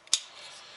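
A plastic distributor cover on an AE92 Toyota Corolla snaps into place with a single short, crisp click, faint and close, followed by a soft rustle.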